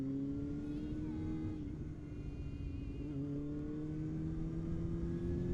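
A Yamaha R6 sport motorbike pulling hard, its engine note holding a high, steady whine that slowly climbs in pitch as it accelerates, heard from on board at moderate loudness.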